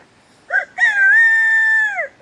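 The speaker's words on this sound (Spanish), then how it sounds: "Nos hemos encontrado aquí, en mitad del camino, un montón de gallos." A rooster crows loudly nearby on a roadside in the Azores: a short opening note, then a long drawn-out call that falls at the end. No voices.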